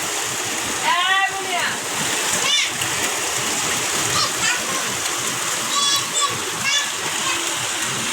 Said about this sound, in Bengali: আর এদিকে আমরা বৃষ্টির আওয়াজ নিচ্ছি।